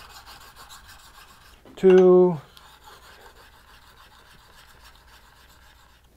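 Soft, steady rasping of a blade bevel being worked over a lubricated sharpening stone, quiet and continuous, with a brief spoken word cutting in partway through.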